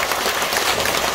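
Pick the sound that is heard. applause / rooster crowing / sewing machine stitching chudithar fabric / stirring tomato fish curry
applause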